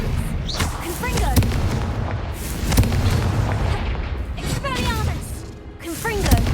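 Confringo fire spells blast repeatedly in Hogwarts Legacy, deep booming bursts and crackling impacts rolling one after another amid loud game combat, with a voice speaking over the noise.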